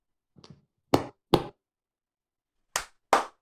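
A few separate hand claps ring out in a quiet room: a soft pat first, then two crisp claps, a pause, and two more close together.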